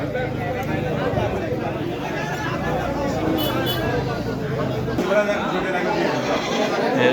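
Goats bleat repeatedly amid a busy crowd at a livestock market in Taherpur, Bangladesh, with steady chatter and voices throughout a noisy outdoor gathering.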